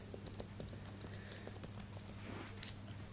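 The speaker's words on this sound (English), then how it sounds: "let's just type in the tech press." Typing on a Bluetooth keyboard for an iPad 4, a rapid run of light, close keystroke clicks over a faint steady hum, with no talking.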